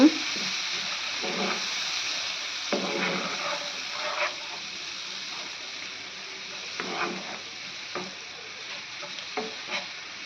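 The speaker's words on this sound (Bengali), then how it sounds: "এখন আমি কিন্তু এবেলাতে তেল আড়াচড়া করিয়া দিম" Spices being stirred in hot oil in a pot while cooking lentil dal with sweet pumpkin leaves, giving a continuous hissing sizzle with occasional soft scrapes of a spoon.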